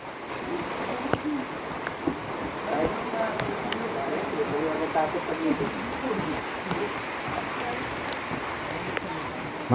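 Heavy afternoon rain falls as a steady dense hiss and patter, with pigeons cooing faintly and voices talking quietly in the background.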